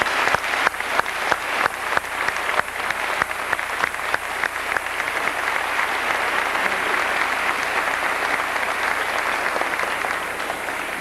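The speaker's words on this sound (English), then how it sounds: "let's give him a good round of applause" Sustained audience applause fills a 1985 high school class day ceremony, a dense, steady wash of many hands clapping with a few sharp early claps, continuing loudly and evenly throughout without speech.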